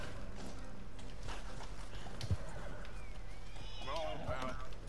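A horse gallops in Red Dead Redemption 2 with rhythmic hoofbeats under steady game sound and ambience, joined toward the end by a short whinny-like cry.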